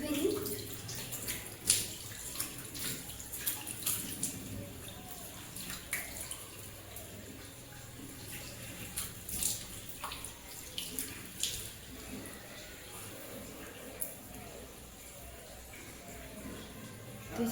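Tap water running faintly while a homemade face pack is rinsed off at a sink, soft splashing and hand-washing noises with intermittent sharper drips and clicks throughout.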